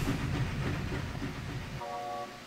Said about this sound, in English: And here comes the choo-choo.